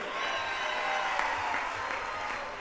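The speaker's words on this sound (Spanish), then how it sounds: "Un aplauso bien fuerte para todos." An audience applauds at a live Toño Rosario show at the Jet Set Club, with dense, steady clapping and faint crowd noise mixed in, continuing evenly through the short stretch.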